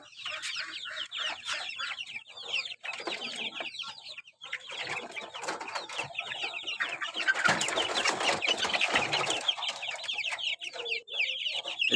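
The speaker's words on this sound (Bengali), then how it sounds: "এখানে 3 প্রজাতির মুরগি আছে: দেশি মুরগি, ফার্মি মুরগি এবং ব্রাহ্মা মুরগি।" Desi, farm-breed and Brahma chickens on a small hobby farm cluck and chatter continuously at close range, with many overlapping calls and no talking.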